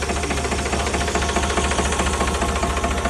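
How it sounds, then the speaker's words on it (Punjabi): A Sonalika 35 DI RX tractor's diesel engine runs steadily at idle, a dense close knocking thrum with a constant rattling vibration and no pauses. "ਆਹ ਵੇਖੋ ਹੁਣ ਕਰਤਾ ਆਪਾਂ ਸਟਾਰਟ, ਬਾਕੀ ਤੁਸੀਂ ਆਵਾਜ਼ ਵੇਖ ਹੀ ਸਕਦੇ ਜੇ।"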